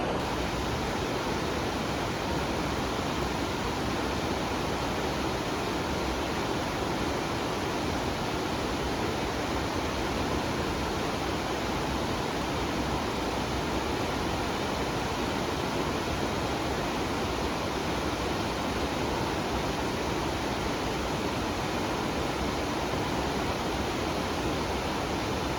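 Steady, loud rushing water where the north and south forks of the Wallace River meet in green Western Washington, a continuous broadband roar with no pauses or voices across the whole stretch.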